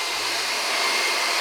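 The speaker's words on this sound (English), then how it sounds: "So right now I have my hair dryer here." A hair dryer blows hot air onto a phone skin wrap during a POCO X3 Pro smartphone wrap job, giving a steady, loud, close broadband whoosh with no talk.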